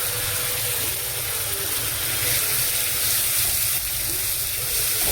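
Masala paste of ground coriander, cumin, chili and salt frying in a pan for kolar kofta (banana kofta curry), a steady loud sizzle with faint scraping, no talk.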